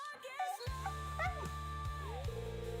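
Biscuit the dog in Stardew Valley whimpers with soft, high wavering whines over a looping game music background.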